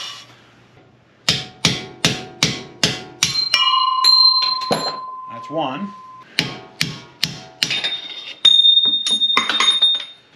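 Sharp metallic hammer strikes on a screwdriver, punching old bearings out of a 1966 Nova rear axle, in quick bursts of five or six, ringing with a bright metal tone, separated by a pause with a short spoken remark.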